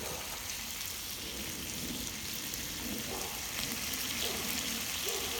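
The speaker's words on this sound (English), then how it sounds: "And the bacon's heating up." Bacon frying in a pan: a steady, faint crackling sizzle with fine popping spatters running throughout, continuous and even, with no voices.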